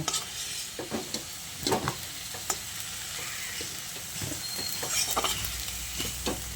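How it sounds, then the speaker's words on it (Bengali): Fried potatoes are lifted out of hot oil in a wok, with a steady bubbling sizzle broken by scraping and clinking of the utensil against the pan, close and clear without talk. "এবার এই আলুগুলোকে আমি তুলে নিচ্ছি। তেলটা ঝরিয়ে এইভাবে আলুগুলোকে তুলে একটা পাত্রের মধ্যে রেখে দেব।"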